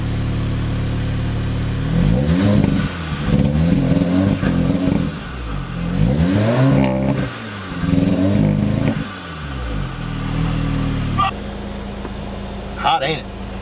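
A 2017 Audi car engine fires up and revs hard in a series of rising and falling sweeps, loud and close, before settling to an idle as voices chatter nearby.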